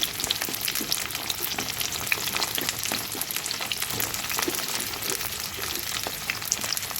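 Vegetable stalks frying together in a pan of oil for Bengali shukto, a steady dense sizzle with small crackles and stirring, continuous and fairly loud with no talking.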